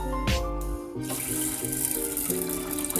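Water from a cup gushes into a rice cooker holding buckwheat, a short, close splashing pour that settles into a running trickle.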